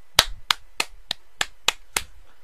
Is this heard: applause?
yes